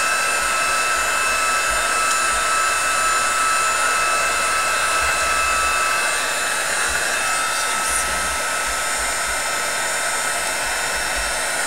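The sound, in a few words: heat tool blowing while heat setting paper snowflake flowers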